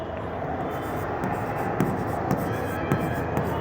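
A teacher writes "sundry debtors" while working an accounting problem, a steady scratchy writing sound running continuously at close range with small taps, no talking.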